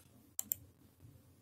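Two sharp, quick clicks close together from a computer mouse during Raspberry Pi 4 setup, faint and isolated against a quiet room.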